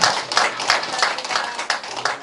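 Audience at a party election-review meeting clapping in uneven bursts, a fairly close crowd of hands rising and falling in waves, with a faint voice underneath.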